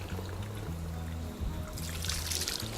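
Tap water runs steadily at a hair salon in Kampala while the temperature is adjusted to wash natural hair, a constant moderate splash over a low background hum.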